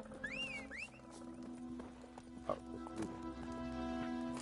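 A horse galloping in the video game The Witcher 3, with faint rhythmic hoof clops under quiet game music and ambient effects, plus a brief louder thump midway.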